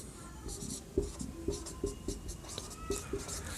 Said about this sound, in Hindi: अब लिखते हैं इसका सरफेस एरिया